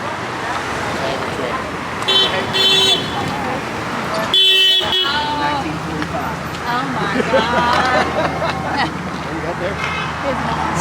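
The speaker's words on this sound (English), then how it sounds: "Oh, that's why they're honking." Car horns honk in passing traffic at a street protest, several toots sounding over road noise and idling engines while people talk close by.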